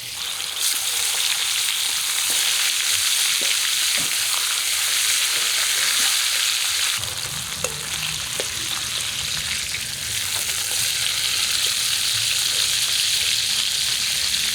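Eggplant slices and hilsa fish frying together in a pan; a continuous, loud, dense sizzle heard up close for the whole stretch, with a few soft knocks and a slight shift in tone partway through.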